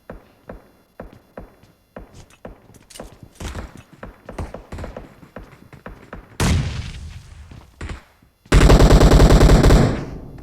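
Gunfire in the mobile battle game PUBG Mobile: a string of sharp single shots, then a dense automatic burst, a short gap and a second loud sustained burst close up, with no talk.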